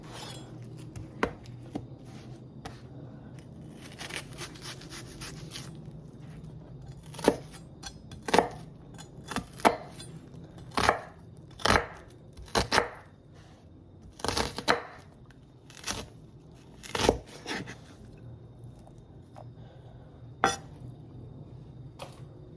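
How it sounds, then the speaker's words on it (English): A kitchen knife dices onions on a cutting board, with irregular sharp taps and chops spread across the stretch, some louder strikes near the end and quiet background between them. "Cut my onions when I'm dicing them in half, and then on top I just make lengthwise."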